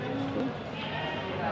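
Goats bleat amid a noisy crowd of livestock at a market, the cries overlapping in a dense, steady din at close range.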